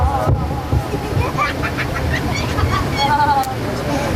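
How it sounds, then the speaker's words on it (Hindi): An audience claps for a children's drama about saving water, staged at a welfare organisation's annual event. The applause is a dense, steady wash of clapping that runs the whole time, with crowd voices mixed in. "तालियां बजा रहे हैं बच्चों के लिए"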